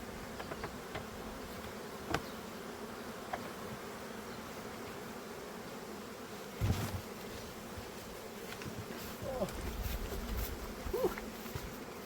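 Honeybees fly around their hives in morning sun during pollen collection, making a steady, dense buzz of many insects close by, with a few louder passes swelling briefly.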